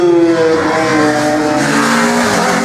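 A race car on a slalom course, its engine loud and close, revving steadily with rising and falling pitch as it works through the turns, with no one talking.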